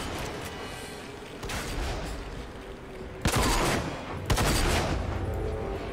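Gunfire in the video game RAGE, with sniper shots ringing out. Sharp, loud reports break through a constant background rumble, two strong blasts landing near the middle of the stretch, and no one speaks.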